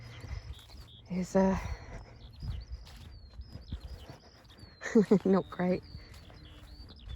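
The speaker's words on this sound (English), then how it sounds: "let you hear the lovely bird song" Birdsong on an outdoor spring walk: a few short bursts of clear chirping, strongest near the start and again toward the end, heard over someone talking and general outdoor background noise.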